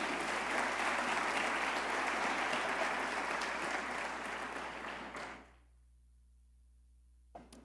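A church congregation applauds with loud, dense clapping that thins out and stops about two-thirds through, leaving near silence and one small knock near the end.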